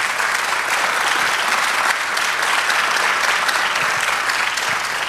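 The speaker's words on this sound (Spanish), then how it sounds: "Y denle un aplauso al Señor." Church congregation applauding, a loud, sustained and even roar of many hands clapping together with no break.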